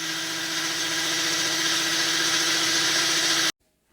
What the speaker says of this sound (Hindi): उसके बाद मम्मी ने चला दी मिक्सी